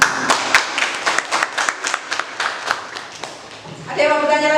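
A classroom group claps for a presenting student team, a brisk burst of many hands lasting several seconds before a voice speaks at the end.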